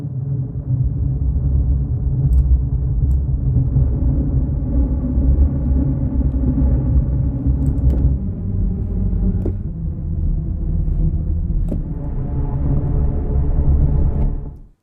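A layered synth pad from the Singing Ringing Tree virtual instrument, stacked across three octaves, swells as a loud, sustained, rumbling low drone with shifting upper tones, fading out sharply at the end, with no talking.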